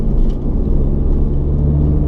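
An Audi TT mk2 drives along a country road, its interior filled with a steady low rumble of engine and road noise, close and continuous, with no talking.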